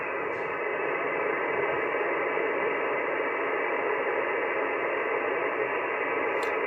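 Shortwave radio on the 10m band through a Kenwood TS-830S gives steady loud hiss and static from a faded-out signal, with no voice coming through.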